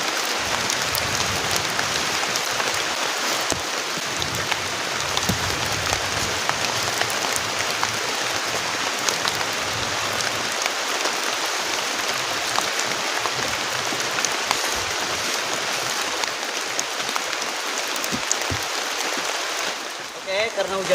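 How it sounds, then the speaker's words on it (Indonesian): Heavy rain pours onto a camping shelter during a storm, a dense continuous hiss and patter of drops with steady intensity throughout, close and enveloping. "karena hujannya deras banget teman-teman, kita harus benar-benar cepat-cepat pasang tendanya"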